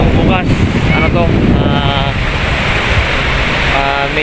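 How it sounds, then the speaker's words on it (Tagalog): Strong sea waves and gusting wind buffet the shoreline, a loud continuous roar with heavy wind noise on the microphone and voices faintly heard over it. "malakas ang alon kaya mahangin"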